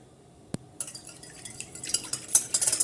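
A spoon stirs yogurt and water in a bowl, a faint knock followed by a run of soft scraping clinks that grow busier and brighter toward the end, with no talking.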